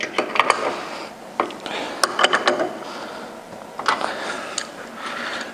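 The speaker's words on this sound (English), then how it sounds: "Once you've hand tightened the spools, make sure they're snug with a wrench." Wrench snugging spools on a transmission torque converter, giving scattered metallic clicks and ratcheting taps over a faint background hiss, close and fairly quiet.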